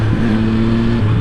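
A motorcycle engine revs hard and steady during a quick small wheelie on a snowy Swiss Alps road, loud and close, with a droning tone throughout.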